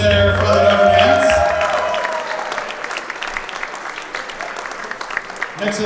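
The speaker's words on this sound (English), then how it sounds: "let's give a round of applause up there for the number dance" Wedding guests applaud after a choreographed dance at a reception, starting as a loud, dense burst that gradually thins into scattered clapping, with music or voices faintly mixed in early on.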